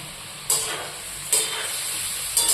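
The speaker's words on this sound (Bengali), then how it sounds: "আগে এগুলো হালকা লাল লাল করে ভেজে নিতে হবে এপিটোপিট করে হালকা ভেজে নিলেই হবে" Paneer pieces fry in a pan with a continuous bright sizzle, swelling in three sudden bursts as pieces are turned or added, close and without any voices.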